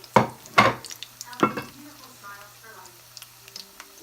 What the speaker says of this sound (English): You just fry them until they get brown on the opposite side